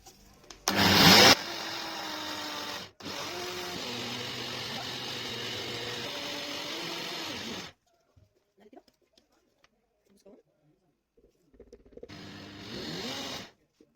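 A kitchen blender whirs loudly and steadily for several seconds while blending homemade Nutella with hot milk, stopping briefly before resuming and then cutting off, followed by near silence and one final short burst of blending.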